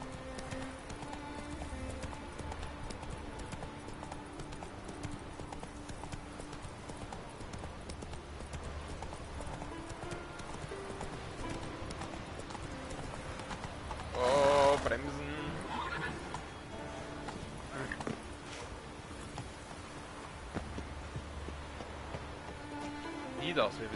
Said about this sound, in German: Pferd, mitkommen.